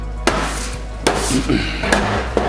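A bench scraper chops through unleavened pizza dough on a wooden board, giving four sharp, evenly spaced knocks close by with a short thud at each stroke.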